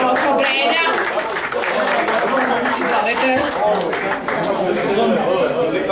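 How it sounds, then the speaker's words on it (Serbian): An audience at a poetry reading during a magazine launch applauds, a dense, steady wash of clapping mixed with chatter that lasts several seconds. "Aplauz molim."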